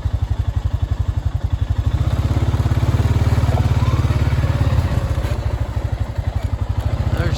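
Four-wheeler ATV engine idling and revving close by on a farm with cattle, a steady rapid low chugging throb that swells louder in the middle and eases back, with no talk over it.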